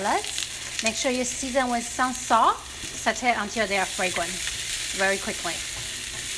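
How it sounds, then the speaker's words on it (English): Garlic, ginger and shallots sauté in a hot pan, giving a steady soft sizzle that runs continuously beneath a person talking throughout. "First, I'm gonna saute the aromatics."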